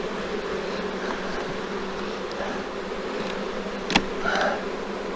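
Honey bees on an opened hive frame in an apiary during a September check, a steady dense hum close by with a brief sharp click and one louder buzz passing near.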